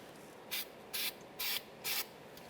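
Four short, even bursts of copper anti-seize spray on the threaded area of a front steering rack tie rod on a 2005-2010 Chevrolet Cobalt, close and fairly quiet, evenly spaced with pauses between.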